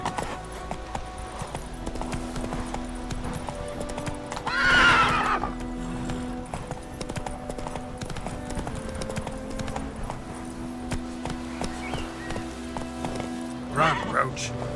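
Roach, a horse in The Witcher 3, galloping with a steady clip-clop of hooves, one loud neigh midway and another near the end, close and prominent with speech and game ambience underneath.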